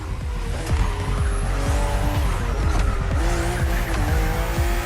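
BMW M2 and M4 race cars in The Crew Motorfest racing on a narrow road full of sharp bends, loud engines revving and shifting through gears, with repeated tire squeals through the corners.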